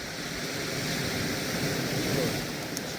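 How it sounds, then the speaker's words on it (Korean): Continuous roar of ocean waves washing in at Namhae, South Korea, a broad steady rush of surf with no distinct breaks and no talking. "파도 소리."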